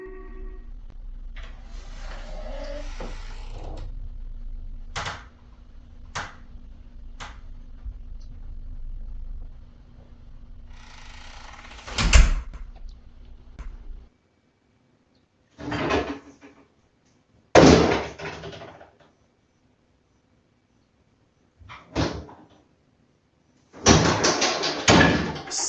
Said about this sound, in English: Something began opening doors in his new home.